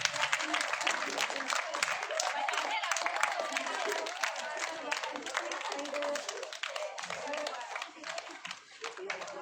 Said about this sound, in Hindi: ताली तो बजाते रहो